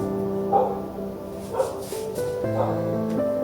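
A dog barks a few times at a moderate distance, short yaps spaced about a second apart over a steady background hum.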